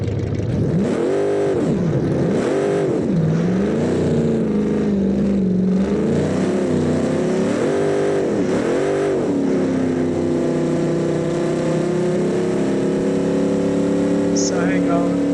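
A viewer-made restomod car in BeamNG.drive revs hard and keeps rising and falling in pitch, then settles into a steady, loud engine drone with no pause, while someone talks over it.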